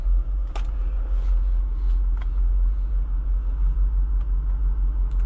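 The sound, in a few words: Jeep Wrangler Rubicon 392 Final Edition driving on road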